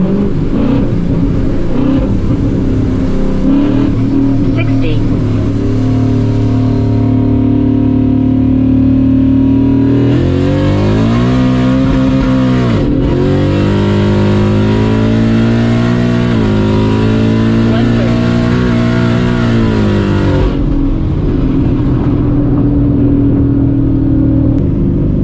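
A supercharged Ford 5.0 with a 10-speed, running on E85, pulls hard at full throttle. The engine roars loud and steady, its pitch climbing through each gear, with short dips at the shifts and no voices.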